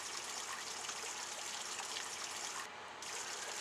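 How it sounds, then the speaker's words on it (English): Steady, even rush of water flowing through a channel from a sump pump mini lift station, fairly close and continuous, with no voices; a brief dip in the hiss near the end. "you can see the water flowing through a channel"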